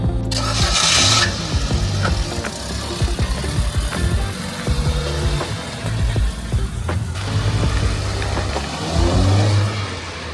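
A van's engine runs on a test drive after a clutch repair, a close, steady rumble with rising and falling revs throughout.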